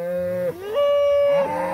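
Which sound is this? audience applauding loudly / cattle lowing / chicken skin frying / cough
cattle lowing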